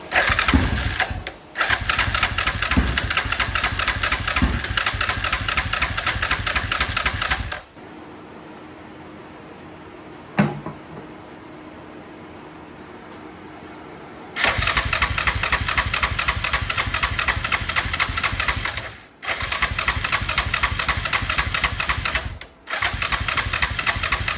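Yamaha Grizzly 660 four-wheeler engine runs loud and steady close by, cuts out into a quiet stretch with one brief knock, then catches again and idles roughly, dipping twice as it stumbles.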